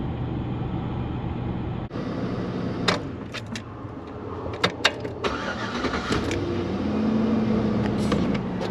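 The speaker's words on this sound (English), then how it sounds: "Beginning engine starting sequence now." A 2002-2006 Chevrolet Tahoe with the 5.3 LS V8 cranks and catches after a soft click, then idles rough and steady while keys jingle and clunk sharply near the cabin.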